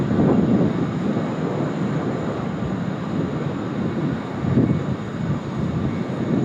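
A Qantas airliner inbound from Tokyo Haneda approaches Sydney Airport, a distant low rumbling roar with gentle swells in loudness, heard steadily without talk.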